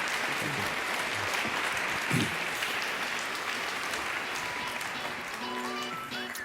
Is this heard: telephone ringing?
no